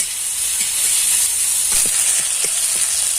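Spice masala with chilli-ginger paste fries in a pan with a steady bright sizzle and hiss, and a few faint stirring clicks come through.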